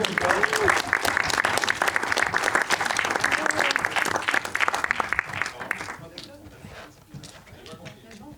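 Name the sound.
audience applauding at a party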